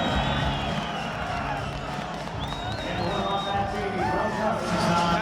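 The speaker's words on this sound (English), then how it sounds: "And listen to this crowd inside the Bar East Arena." A wrestling arena crowd roars continuously at a freestyle 70 kg semifinal, a dense, steady wash of cheering with some whistles rising above it and a voice talking over the noise.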